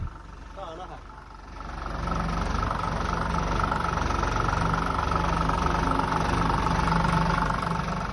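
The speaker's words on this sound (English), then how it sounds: "It started like a dream. It started immediately, at the first attempt." A restored 1997 steel boat's diesel engine settles into a steady idle after starting, a continuous low rumble with a faint hum that rises slightly after the first two seconds and holds evenly.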